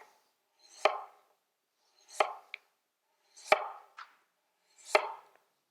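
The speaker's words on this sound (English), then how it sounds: "I'm going to cut it into planks" A knife cuts butternut squash into planks on a board, four sharp, separate chops spaced about a second apart, close and clear in an otherwise quiet room.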